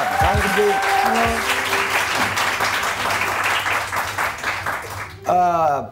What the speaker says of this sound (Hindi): सबसे पहले सुजैन के लिए बहुत सारी तालियां।